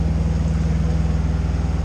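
A Nova 28 sailboat motoring under engine power at about 2,000 rpm gives a steady, loud low drone with a regular throbbing pulse, close and continuous, with wind noise over it.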